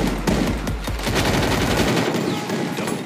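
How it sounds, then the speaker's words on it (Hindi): A Thompson submachine gun firing in the Free Fire video game: sustained rapid automatic bursts, dense and loud, with the rounds blending into a continuous rattle for several seconds and no talking over it. "देखो ये बंदी थॉमसन चला रही है"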